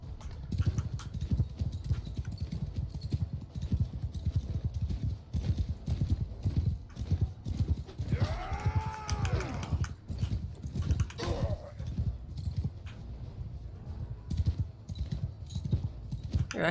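Horses galloping in a battle in the Bannerlord video game, a dense continuous clatter of hooves with a brief whinny partway through, steady and fairly close.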